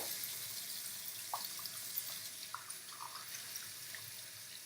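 Tap water runs steadily into a sink while hands are washed with soap under cooler water, a faint, even hiss with a few small splashes and drips and no talking.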